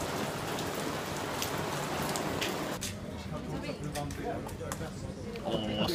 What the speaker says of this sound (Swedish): Regnar